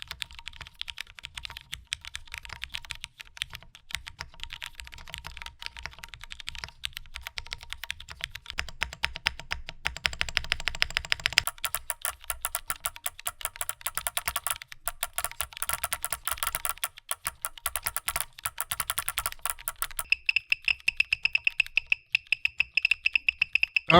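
Typing on a Class 80 mechanical keyboard built with only a battery compartment blocker and thin lowercase foam: a steady stream of close, crisp keystrokes that grows faster and denser partway through, with no voices.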